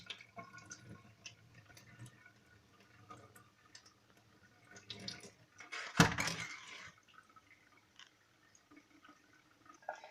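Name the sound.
plums dipped under running tap water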